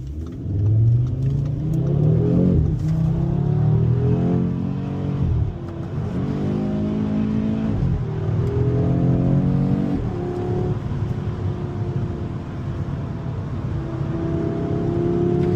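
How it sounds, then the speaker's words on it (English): An Audi RS3 engine rumbles from inside the car while driving, rising in pitch through several gears with shifts audible as drops, then settling into a steady cruising drone. "the engine sound really is a highlight for me on this car"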